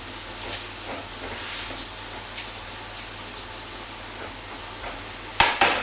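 Bacon fries in a pan for a full English breakfast, giving a steady, even sizzle and hiss throughout, with a couple of sharp utensil knocks near the end and no talking.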